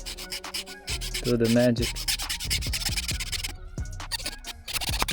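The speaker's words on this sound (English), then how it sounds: "want to sand down this surface so that you will be able to actually use a socket on this washer. So with a file," Hand file rasping in short strokes against a surface, clearing room for a socket on a BMW F10 tail light washer, close and scratchy with rhythmic passes; someone speaks briefly over it.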